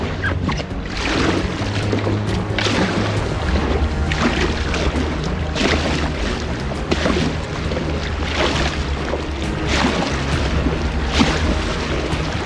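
Paddling an Itiwit Packraft 500 upstream against the current of the Agger river, with steady rhythmic paddle splashes over continuous rushing water, close and fairly loud, with no talk.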